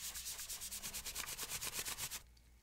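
Rhythmic rubbing strokes on the dirty plastic casing of a PS4 console, a quick run of soft, close scrubbing swishes that stops abruptly.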